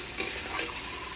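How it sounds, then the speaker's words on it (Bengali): Onion-garlic paste masala frying in a pan sizzles loudly and steadily, with a scrape of stirring near the start. "এখন ভালো করে কষিয়ে নেবো মশলাটা"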